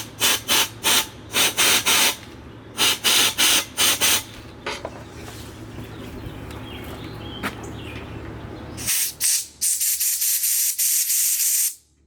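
A 1964 Ford tractor radiator is washed out with a spray nozzle, loud hissing water bursts coming in short repeated blasts, then a long steady spray near the end, with no talking.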